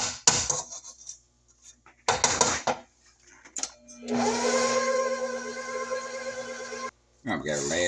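An electric mixer beats chocolate pound cake batter in a bowl with a steady, loud whir that runs for several seconds, preceded by clattering of utensils and bowl and followed by a brief pause before it starts again.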